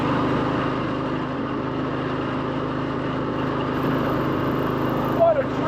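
A 1954 Harley-Davidson KH motorcycle riding in third gear, its engine droning steadily and close throughout, with a slight rise near the end.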